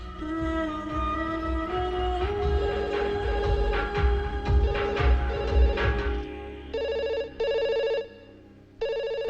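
A telephone rings in a series of loud, even electronic trills with short gaps, following a stretch of music with a sustained melodic line.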